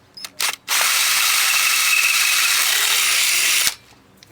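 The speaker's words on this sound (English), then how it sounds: "get the drill bit and try and keep it as vertical as possible." A power drill bit bores through an aluminium can pressed against a paint tray, a few short clicks and taps giving way to a loud, continuous high-pitched whirring grind for about three seconds before it cuts off abruptly.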